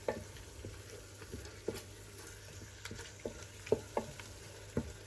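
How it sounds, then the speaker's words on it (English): Finely chopped tomatoes frying in a pan for biryani masala give a faint, low sizzle under scattered soft taps and stirring knocks, close and quiet with no speech. "Then add 2 finely chopped tomatoes. Fry for another 2 minutes."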